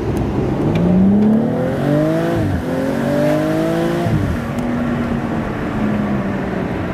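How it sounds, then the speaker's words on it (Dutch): A car's exhaust rumbles deep and muffled while driving, a loud, close, steady drone that rises and falls in pitch through gear changes, heard without talking. "Je hoort hem wel roffelen."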